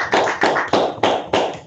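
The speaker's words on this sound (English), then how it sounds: "let's give another round of applause to Martin and thank him" Five evenly spaced, close, sharp claps sound in a quick rhythm, like a small group applauding a speaker at the end of a talk, with no voices.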